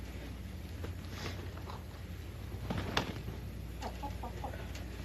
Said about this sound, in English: Man, these roosters are all at each other today.